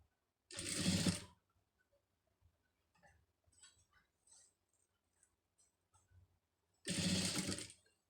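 Sewing machine stitching a neck design, with two loud close bursts of rapid whirring at the start and end, and faint handling clicks between them.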